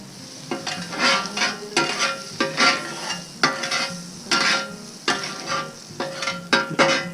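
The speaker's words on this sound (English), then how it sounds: "We're going to toast those buns." Buttered buns toast on a Blackstone griddle with a steady sizzle, broken by a regular series of close, rhythmic spatula scrapes across the flat-top.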